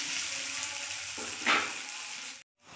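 Dried vegetables sizzle steadily in a hot pan for pasta, with a brief louder flare of frying near the middle before the sound cuts off abruptly.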